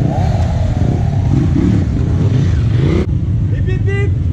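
A BMW F800GSA motorcycle rides on a circuit track, its engine droning steadily and loudly under crowd noise and talk, then fading into a smoother rumble near the end.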